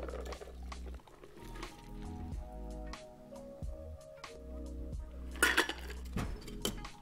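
A shaken vodka cocktail strained from the shaker into a glass over ice: quiet, steady liquid trickling with scattered ice clinks and a brighter rattle near the end, close up, no speech.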